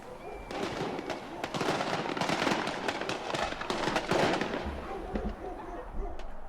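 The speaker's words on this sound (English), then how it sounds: "Sounds like fireworks." Fireworks crackle and pop densely through a rap track, with a steady run of bursts under the music and occasional low booms near the end.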